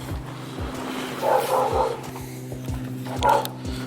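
A neighbor's dog barks a few times at a distance, soft yips and woofs rising over a steady low hum and rhythmic thumping in a garage where a 1964 Chevy Impala SS is being worked on.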